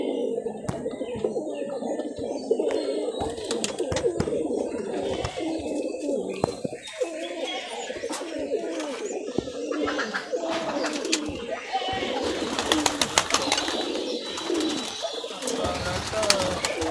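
High flyer pigeons from Rajshahi cooing near at hand, soft repeated coos mixed with chirps and faint bird calls, continuous over a light outdoor background.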